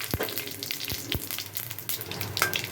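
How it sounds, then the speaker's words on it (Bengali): Cumin seeds, a dried red chilli and two bay leaves hit hot mustard oil, giving a close crackling sizzle with a few sharp pops and spatters over a steady frying hiss. "এখানটায় আমি দেব সাদা জিরে একটা শুকনো লঙ্কা আর দুটো তেজপাতা"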